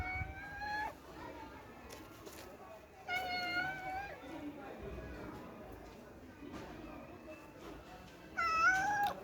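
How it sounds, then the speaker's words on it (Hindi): A house cat meows several times at home, with distinct close cries early, midway and a louder one at the end, while a person talks nearby between them. "देखो मेरे घर की बिल्ली है"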